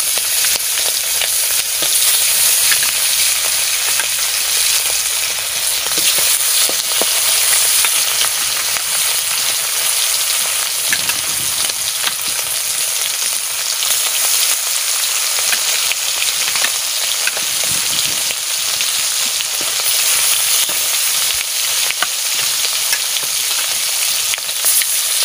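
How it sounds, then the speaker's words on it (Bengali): Fish frying in a pan, a loud, continuous hiss and crackle of hot oil close by that carries on steadily throughout, with no talking. "মাছ ভাজা বসাই দিচ্ছি।"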